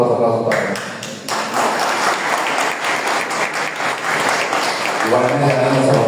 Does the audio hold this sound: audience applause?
yes